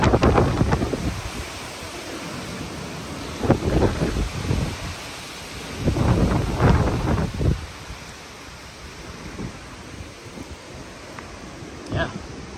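Super Typhoon Mawar batters Guam with surging wind gusts that roar and buffet the microphone, under a steady hiss of rain; the gusts swell and fade in waves, loudest early and mid-way.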